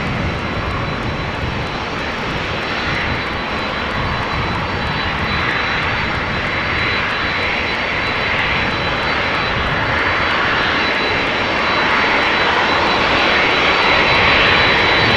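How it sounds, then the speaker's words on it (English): A TUI Boeing 767 approaching at Amsterdam Schiphol Airport, its jet engines giving a loud, steady roar that builds gradually. A 737 sits nearer in the foreground. "It's a 767 from TUI coming this way. Its engines already overpowering that of the 737"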